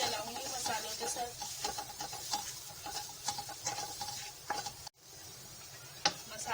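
Spices being stirred in a frying pan while making potato bites and patties: repeated scraping strokes over a soft, steady sizzle, with a brief gap near the end and one sharp knock after it.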